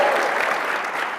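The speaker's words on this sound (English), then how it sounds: "You want to practice cheering?" An audience breaking into cheering and applause during a conference session, a dense, steady wash of clapping that holds at full strength for the whole moment with no pause.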